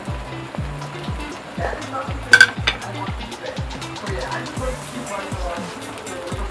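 Creamy sauce with pepper being stirred in a frying pan, a soft continuous sizzle and scraping with a few brief utensil clinks, under a steady rhythmic background beat.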